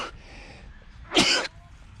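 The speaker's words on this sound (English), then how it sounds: "I'm going to sneeze, excuse me." A single sharp sneeze bursts out close and loud during an engine overhaul on a Vetus M3.10 marine diesel, with a quieter breathy lead-in beforehand.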